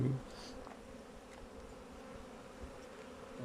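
Honeybees buzz around an open beehive while a keeper checks frames of honey ahead of winter. A continuous, close hum of many wings holds steady and fills the whole stretch.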